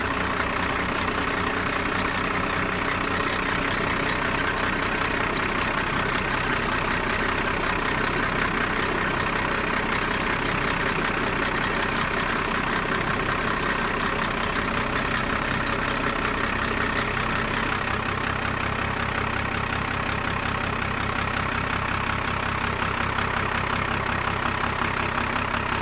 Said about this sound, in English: Well, she's running. Now it's time to check her for leaks.